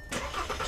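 A car's engine is started at an auto workshop: after a brief quiet moment, the engine catches abruptly and settles into a steady, close mid-pitched running rumble, with no talk over it.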